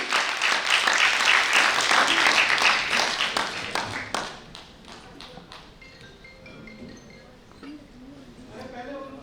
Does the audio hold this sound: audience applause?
yes